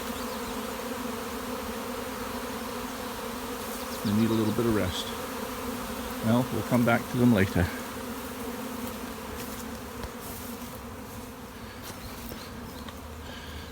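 Young honeybees from a swarm buzz steadily in a dense hum close by, with someone talking in bursts over the drone partway through.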